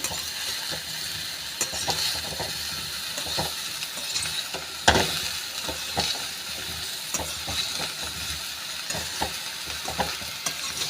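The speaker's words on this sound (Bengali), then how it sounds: "এরপরে আমি আলু দিয়ে দিচ্ছি এবারে সবগুলোই ভালো করে সুন্দর করে নাড়িয়ে নিচ্ছি" Eggplant and potato pieces sizzle steadily in a hot pan for a vegetarian curry, with frequent scraping and clattering stirs of the spatula throughout and no one talking.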